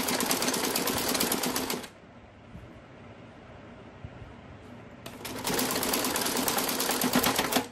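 A home sewing machine stitches a salwar in two loud, steady bursts, separated by a quiet stretch of a few seconds.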